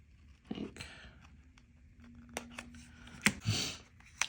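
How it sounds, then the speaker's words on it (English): Several crisp snips of scissors cutting a piece of cardstock for a paper-pieced Pooh craft, scattered clicks and short cuts, fairly close and fairly quiet. "So I'm going to go ahead and cut that off."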